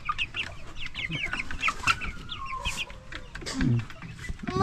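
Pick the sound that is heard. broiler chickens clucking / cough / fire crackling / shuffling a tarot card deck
broiler chickens clucking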